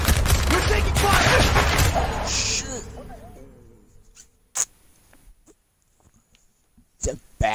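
Gunfire in Call of Duty Black Ops: a loud, dense volley of shots for about two and a half seconds fades out, then two sharp isolated bursts follow later, with voices talking during the fight.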